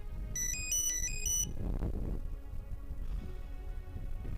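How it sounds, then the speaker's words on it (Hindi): A melodic phone ringtone chimes in a quick repeating tune for about a second, then stops, leaving a quiet indoor room with faint background noise. "किसके फोन आ रहे हैं सुबह से?"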